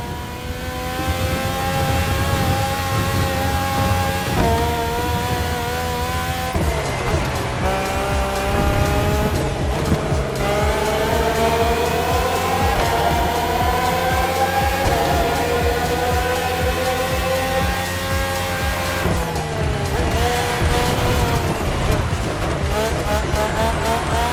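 Red Bull Formula One race cars from The Crew Motorfest, Renault- and Honda-engined, roar loudly and continuously through the whole stretch, engine pitch climbing and dropping with gear shifts and bursts of tire squeal.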